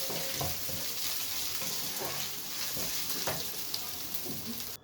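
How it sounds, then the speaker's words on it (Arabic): Four large garlic cloves and coriander frying in hot oil, a dense continuous sizzle with faint stirring scrapes, close and steady with no talking. "على بقى سخونيه الزيت هتحمر الثومه، مش هتاخد معاكي وقت"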